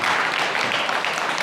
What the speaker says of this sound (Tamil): நீங்கள் அருமையாக கைத்தட்டுறீங்க